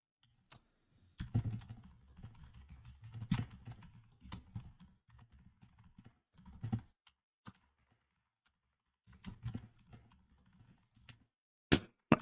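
Bursts of typing on a computer keyboard sitting near a microphone, close clattering clicks in irregular clusters separated by quiet pauses, with a couple of sharper taps near the end.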